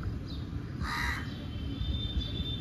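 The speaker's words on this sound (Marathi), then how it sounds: "कावळा कुठून काव काव करतो?" A single crow caws once, fairly close and clear, over a low rumbling background with no talking.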